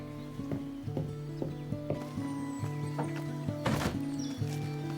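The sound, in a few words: horses arriving, hooves clip-clopping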